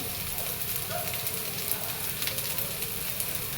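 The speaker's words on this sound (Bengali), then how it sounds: "ডাটা শাক ভাজি করছি সরিষার তেল" Data shak (stem amaranth greens) frying in mustard oil, producing a continuous close sizzle with small crackling spits.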